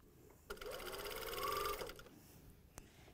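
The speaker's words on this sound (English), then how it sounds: "I'm going to stitch in the center, and I'm just holding that quite taut" Sewing machine with a ballpoint needle running a short straight-stitch burst of about a second and a half along the center seam of stretch leggings, faint and fairly close, with quiet room tone around it.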